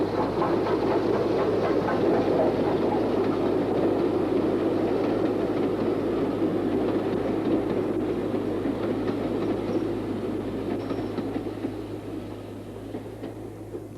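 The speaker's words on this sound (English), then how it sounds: "603 Squadron arrives at Basingstoke with a train from Bournemouth." Steam locomotive 603 Squadron draws into Basingstoke with a train from Bournemouth: a dense, rumbling roll of carriages with a steady low hum and rapid rail clatter, loud and close, fading slightly toward the end.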